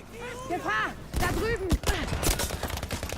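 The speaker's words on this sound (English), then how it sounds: "I actually killed somebody with one shot with a sniper" Sniper rifle gunfire in Battlefield V: a sharp shot with several bursts of in-game firing and impacts over game sound and music.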